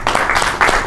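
Audience applause at the opening of a conference on the African intellectual, a brief burst of clapping from a gathered crowd, fairly loud and steady with no talking over it.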